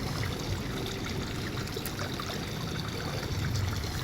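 Water flowing steadily in a stream or channel at a roadside stop in Laos, a continuous broadband rush and trickle heard up close with no voices.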